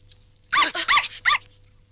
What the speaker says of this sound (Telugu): కుక్క పిల్ల